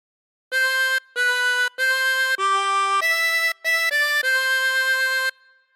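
Tremolo harmonica with 24 holes plays a short melodic phrase of God Defend New Zealand: eight sustained, reedy notes in steady succession, loud and close, with no voices.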